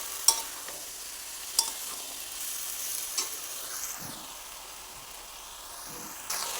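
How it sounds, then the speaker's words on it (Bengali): Eggplant, drumstick flowers and pre-fried lentil dumplings are stir-fried in a pan, with a soft steady sizzle and a few quiet clinks of a spatula scraping and mixing, heard alone and close. "বড়িটা দিয়ে আবারও খুব ভালোভাবে মিশিয়ে নেব।"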